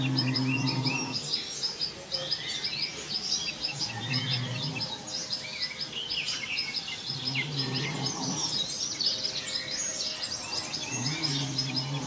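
Many jungle birds chirp and trill in a dense, continuous chorus, with a low droning hum underneath at times.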